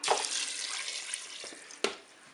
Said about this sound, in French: Donc là, je vais rajouter de l'eau.